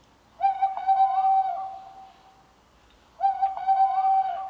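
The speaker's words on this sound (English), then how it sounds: "I finally got around to changing the ringtone. We've got a wise owl now." An owl-hoot ringtone goes off as a timer for instant spicy chicken bowl noodles: two long, clear electronic hooting calls with a pause between them, loud and close in a quiet room.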